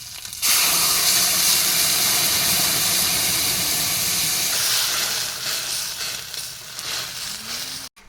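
A rohu fish curry with potatoes and gourd shoots hisses and bubbles loudly in a pan right after being poured in, a steady close sizzle that eases slightly toward the end.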